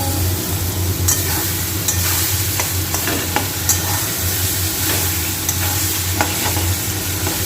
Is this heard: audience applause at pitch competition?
no